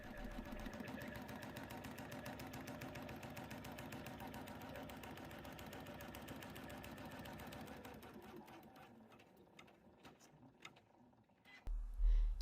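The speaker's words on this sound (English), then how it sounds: "Start by stitching step 1 onto your stabilizer." An embroidery machine stitches a placement outline onto stabilizer in the hoop, its rapid, even mechanical chatter running steadily for several seconds before slowing and stopping, followed by a brief clunk.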